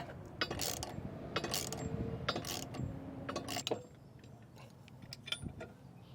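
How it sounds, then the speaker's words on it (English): A ratchet wrench with a 27mm socket tightens the top bolt while installing a Curt TruTrack 2P weight distribution hitch for a 2021 Airstream, giving bursts of close, clicking mechanical ratcheting with a few metallic clinks in between. "I'm gonna go ahead and tighten this top bolt down here with a 27mm socket."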